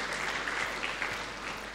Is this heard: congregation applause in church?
yes